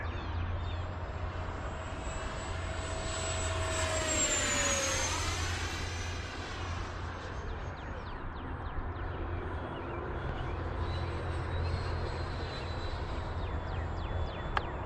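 An L-39 jet trainer on a speed run after takeoff gives a steady, moderately loud engine roar with a high turbine whine that rises and falls, as if passing overhead, then fades to a lower drone.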